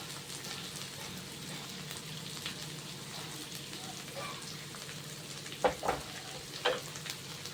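Carrots and green chillies are tossed in a hot pan for mushroom noodles, giving a soft, steady sizzle with a few louder scraping and clattering bursts near the end, heard close.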